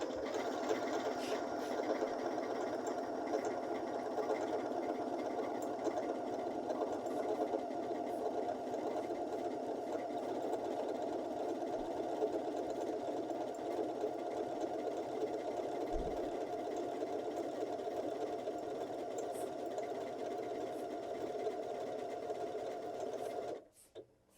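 A Janome 6700P sewing machine runs one programmed leaf stitch sequence with a steady, close mechanical hum and fine rhythmic chatter for over twenty seconds, then halts on its own.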